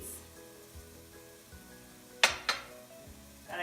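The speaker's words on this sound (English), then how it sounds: "And I'm going to stir this all up." Ingredients for a preserved lemon and yellow pigeon pea soup sizzle in a pot while being stirred, with a low steady fry and two sharp metallic clinks of the utensil against the pot near the end.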